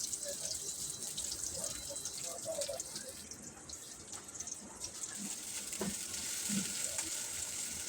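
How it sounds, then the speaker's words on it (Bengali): Chopped onions fry in hot oil in a wok, making a quiet, continuous sizzle with occasional soft stirring clatter throughout. "পেঁয়াজ কুচিগুলো ভালোভাবে নেড়ে ছেড়ে একটু লালচে ভাব করে নিয়ে আসতে হবে। কাঁচা ভাবটা চলে যাবে ভাজার সাথে সাথে।"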